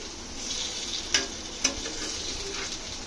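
Onions fry in oil for capsicum pakora, a soft steady sizzle with two sharp utensil clicks against the pan, no voices.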